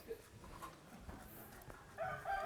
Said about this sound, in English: Chicken, roosters, dogs